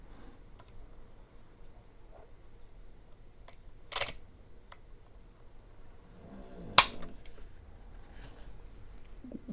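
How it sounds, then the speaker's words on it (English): Dry-fire trigger pull on a Masterpiece Arms DS9 Hybrid 2011 pistol, two sharp isolated clicks several seconds apart, the second a little louder, in an otherwise quiet room. "We'll give it one more trigger pull"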